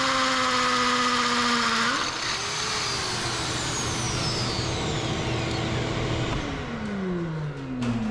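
A worn-out hammer drill bores into concrete during a Bendpak 10AP-168 lift install, its motor whine dipping and rising in pitch before winding down near the end.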